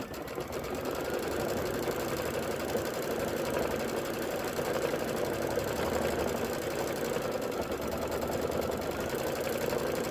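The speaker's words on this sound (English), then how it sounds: "now I'm going to hit start and just let it do the actual quilting" An embroidery sewing machine quilting a flange and border runs steadily in its hoop, a continuous close mechanical whir with rapid needle chatter at an even level throughout, with no voices.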